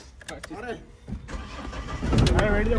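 A car engine cranks and catches as the key is turned, rising to a close, steady running rumble after a brief start, with a voice talking over the first part.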